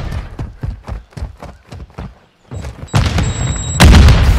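A grenade blast in the Call of Duty: MW2 video game erupts near the end as a loud, sudden explosion, preceded by a steady run of rhythmic thudding footsteps and a brief crackle of in-game activity.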